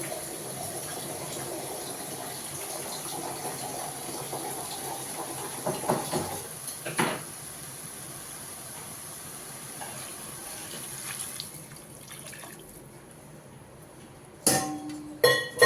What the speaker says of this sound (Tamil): தண்ணி ஊற்றியாச்சு